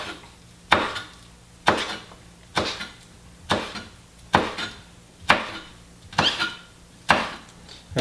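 A kitchen knife slices through rolled-up basil leaves on a cutting board, cutting them into strips. About nine sharp, evenly spaced chops land roughly once a second, close and distinct, with quiet gaps between them.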